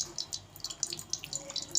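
Pomegranate sharbat trickles and splashes through a kitchen sieve into a container below, a close, light, continuous patter of liquid with small drips.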